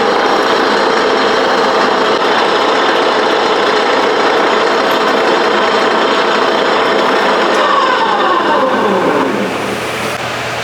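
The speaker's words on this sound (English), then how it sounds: "I've got this drill bit centered up on the Allen head, and I'm going to try to start drilling it out" A drill bit grinds into a hardened Allen head bolt on an old Beverly No. 3 metal shear in a blacksmith shop, a steady, loud, continuous whine that shifts in pitch near the end.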